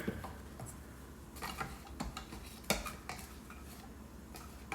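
Homemade icing of heavy cream and vanilla being mixed in a bowl, heard as faint, irregular scrapes and clinks of a utensil against the container, with no talk.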